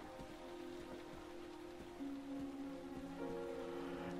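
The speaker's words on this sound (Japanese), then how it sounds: "雨降ってるから開けねえよ。" Rain patters steadily in Heavy Rain, an even hiss with soft drops beneath a sustained musical tone, no voices.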